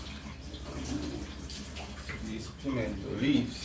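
Pimento leaves being rinsed under a running tap for a Jamaican cornmeal porridge, a steady stream of water splashing close by beneath someone talking throughout.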